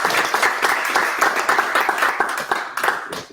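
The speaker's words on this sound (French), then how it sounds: "Vous pouvez applaudir." An audience in a hall breaks into applause, dense close clapping that holds steady and then thins out toward the end.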